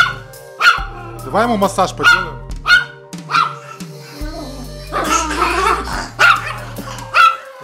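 A very small dog barks repeatedly in sharp, high yips and short whimpers, close by, with people talking in Russian over and between the barks.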